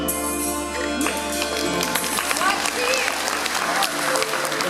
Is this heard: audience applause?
yes